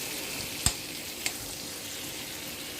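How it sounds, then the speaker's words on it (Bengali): Steady, soft sizzling of potatoes frying in oil in a pan, with a couple of sharp clicks partway through; no voices. "এখন দেখো আলু ভাজা হচ্ছে"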